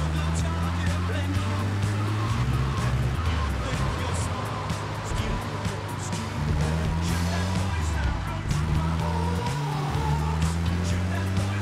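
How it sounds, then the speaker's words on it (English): In Grand Theft Auto: Vice City, a sluggish car's engine drones steadily at low pitch while it drives, its tone rising and falling with speed. Players talk over the engine noise almost the whole time. "Now this car's even slower."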